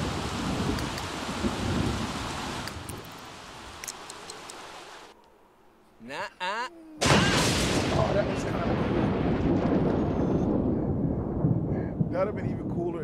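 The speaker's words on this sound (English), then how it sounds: "Lightning strike." A lightning strike in The Sims 3 cracks out of a loud, steady downpour, with sharp bursts, a brief lull and then a heavy rumbling crash as the rain surges back.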